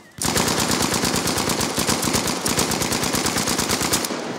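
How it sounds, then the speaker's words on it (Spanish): Sustained automatic gunfire in Battlefield V's Firestorm battle royale mode, a loud, close, rapid regular stream of shots lasting about four seconds and then cutting off, with no talking. "¿Quién dispara acá?"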